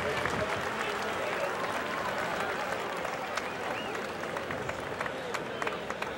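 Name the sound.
crowd applause ovation after boxing knockout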